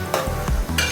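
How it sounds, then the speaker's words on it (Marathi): Capsicum stir-fried in hot oil for chicken momo filling, with a steady sizzle and a few quick scrapes of a spoon against the pan over less than a second. "आता हे चांगली शिमला मिरची थोडी तेलावर चांगली परतून घ्यायची."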